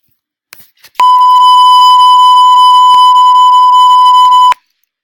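A single steady electronic interval timer beep sounds loud and close, holding about three and a half seconds before cutting off abruptly.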